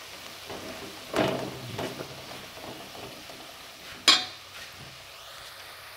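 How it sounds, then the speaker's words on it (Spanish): Potatoes fry in a pan with a faint, soft sizzle, broken by two sharper scrapes of a utensil against the pan, heard close in a quiet kitchen. "Las ponemos a freír un poco."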